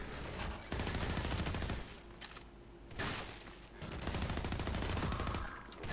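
Heavy, continuous gunfire in a Half-Life 2 firefight against Combine soldiers, with dense bursts and repeated shots layered over one another, loud and busy for the whole stretch.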